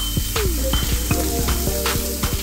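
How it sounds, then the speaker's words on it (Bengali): Semolina and vegetables frying in oil in a pan, a loud continuous sizzle with repeated scrapes and taps of a spoon stirring, close and with no voice. "এর সাথেই আমি সেমোলিনা বা সবজিটাকেও ভেজে নেবো।"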